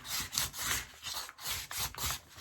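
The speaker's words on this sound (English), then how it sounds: "I just like to give it the sanding, rolling" Rhythmic back-and-forth sanding strokes on a glitter epoxy tumbler, a steady gritty rasp repeating about five times in quick succession, close and fairly loud with no talking.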